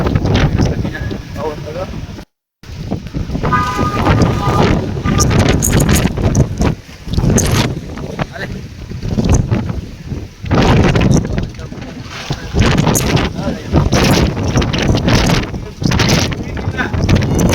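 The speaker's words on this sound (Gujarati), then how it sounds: "ફૂલ પવન આવે છે" Strong gusty cyclone wind in Okha, Gujarat roars and buffets the microphone throughout, with a brief dropout near the start and voices faintly mixed in.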